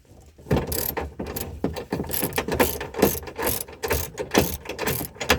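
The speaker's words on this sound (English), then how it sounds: "I'm going to loosen these, but not remove them." Ratchet wrench loosening the nuts on a chuckwagon door frame, a steady series of close clicking pawl bursts repeating in an even rhythm over a low background rumble.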